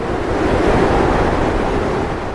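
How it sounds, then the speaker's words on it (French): Storm effect of gusting wind and driving rain bending palm trees, a steady, loud roaring wash that holds evenly throughout with no voices. "Des tornades de vent font plier les palmiers."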